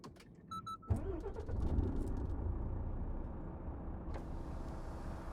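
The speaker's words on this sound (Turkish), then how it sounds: "Araba çalıştıralım sesini bir dinleyelim." A few electronic chimes, then a Renault Range T truck engine in Euro Truck Simulator 2 cranks and catches, settling into a steady low idle rumble with a hiss of air near the end.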